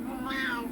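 A pet cat wanting a Churu treat lets out a single short, whiny meow, close and fairly soft, rising slightly in the middle before trailing off.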